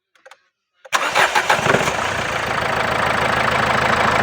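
A diesel car with a knocking problem cranks briefly after a few faint clicks, then catches and settles into a loud steady idle with a rough, even clatter close by.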